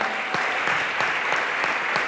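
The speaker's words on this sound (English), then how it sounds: "Let's give them a round of applause." An audience claps at a hall of fame induction ceremony in a large hall, producing steady, dense applause that holds evenly throughout with no voices over it.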